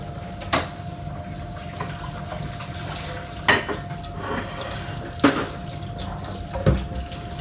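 Tap water runs steadily into a kitchen sink during dishwashing, a continuous rushing hiss broken by a few sharp clinks of dishes or utensils, with no one talking.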